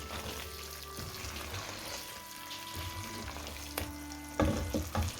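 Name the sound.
potato and egg bhujia frying in a pan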